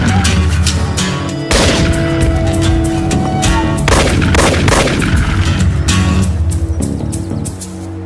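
Several loud gunshots ring out in close succession, sharp booming cracks with echoing tails, the last shots fading slightly.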